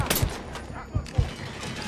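Video game gunfire in Mafia 3, several sharp shots spaced irregularly across a couple of seconds, loud and close, with a player's voice talking between and over the bursts.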